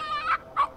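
A character in the Kenshiro video game crows like a chicken, a voice imitating the bird. It gives two short, nasal, turkey-like squawks close up, with a brief gap between them.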